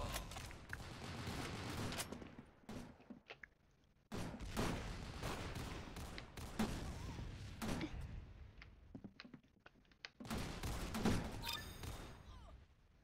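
Sniper and other gunfire in the Roblox game Arsenal, coming in sharp bursts and separate loud shots with short quiet gaps between them, plus some faint background game sounds.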